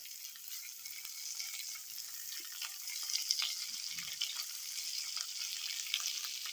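Vegetables, including potato, sauté in a pan for rava khichadi, giving a faint, steady, soft sizzle with light crackling and no voices.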